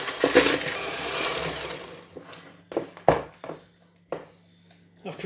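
An electric mixer creams butter and sugar for a rhubarb and ginger frangipane tart, whirring loudly at first and then dropping away. Brief clatters and knocks follow, with the mixer quieter and intermittent underneath.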